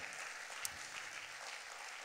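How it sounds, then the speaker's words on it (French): Faint, steady applause from a church congregation at an evening service, a soft continuous patter of many hands heard from a distance. "On va applaudir la parole de Dieu ce soir"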